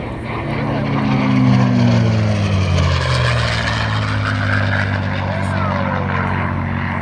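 A CA-18 Mustang fighter plane at the Central Coast airshow roars past with a loud, throbbing propeller-engine drone whose pitch sweeps downward as it passes, then holds steady, with a commentator talking over it.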